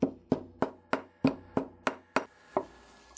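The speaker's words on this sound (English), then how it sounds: "I do like to hammer out the loop" Nine evenly spaced metallic hammer taps flattening a small wire loop for a hook and eye clasp, close and crisp, each ringing briefly before the next strike.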